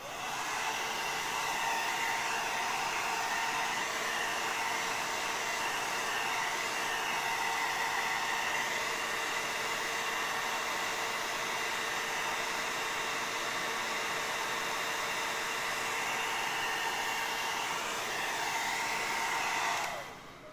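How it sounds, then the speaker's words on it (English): A hair dryer runs continuously for about twenty seconds, used on soft foam while sculpting an alien torso. Its steady, loud, breathy whoosh stays even throughout and cuts off at the very end, with no talking. "Let's get our hair dryer."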